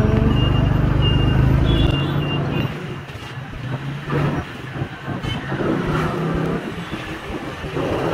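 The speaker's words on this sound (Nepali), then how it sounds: "यहाँ चाहिँ कति धेरै गाडी भिड हुन्छ" A loud engine roar close by fades into a busy wash of heavy road traffic, rumbling motors and hiss of passing vehicles continuing steadily around.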